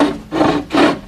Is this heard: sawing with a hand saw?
yes